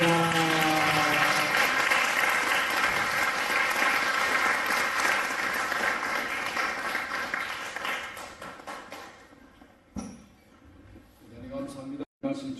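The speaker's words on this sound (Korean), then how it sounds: "우리 하나님께 감사, 영광, 찬양의 박수 올려드립니다" A church congregation at a joint worship gathering in Frankfurt bursts into loud, sustained applause that gradually thins out and fades over several seconds, with brief speech and noise near the end.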